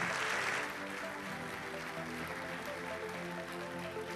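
An audience applauding award winners at a building-trades trophy ceremony, a steady wash of clapping that is strongest at the start and then continues evenly at a moderate distance, with a faint tonal hum underneath.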